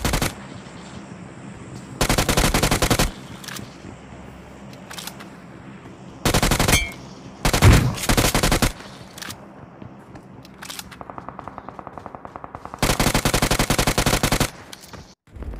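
Bursts of automatic gunfire in the mobile shooter BGMI as a squad is taken down, several loud sustained volleys separated by short pauses and a few single shots, with no talk.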